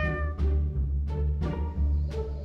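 A cartoon cat meows in the Save the Girl video game: three loud, drawn-out tonal meows spaced evenly over a low, steady background hum.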